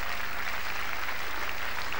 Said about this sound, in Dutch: geef ze maar even een applaus